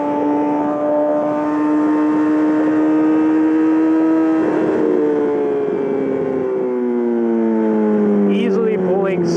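A Yamaha R6 motorcycle with a full M4 exhaust system screams loudly as it accelerates hard, its high-pitched whine climbing and then dropping with a gear change midway before revving again, all close to the rider.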